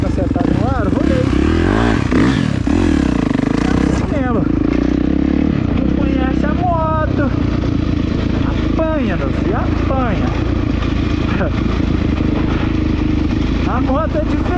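A motorcycle engine on a dirt trail idles and revs unevenly up close, failing to accelerate properly, with someone talking over the running motor.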